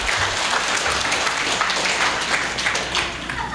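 Audience clapping at a health forum, a steady, fairly close burst of many hands applauding together at an even level from start to finish.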